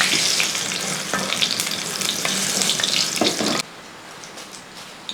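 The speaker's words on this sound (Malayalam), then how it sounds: "ഇതേപോലെ ഒന്ന് വറുത്തെടുക്കുക." Vegetables sizzling loudly in hot oil during brinjal (eggplant) frying, with stirring scrapes over a steady close hiss that drops away abruptly near the end, leaving quieter background noise.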